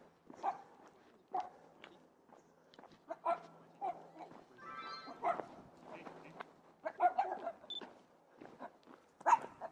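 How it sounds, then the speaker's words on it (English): Two schnauzers bark and yip in repeated short bursts, with some whimpering, close by and fairly loud, while people talk between the barks. "That's probably why they're barking."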